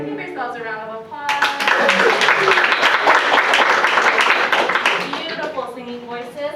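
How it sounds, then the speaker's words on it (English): Participants at a ukulele workshop break into applause right after singing, a burst of dense clapping that swells for several seconds and then fades as voices return on either side. "Give yourselves a round of applause."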